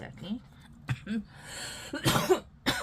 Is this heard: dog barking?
no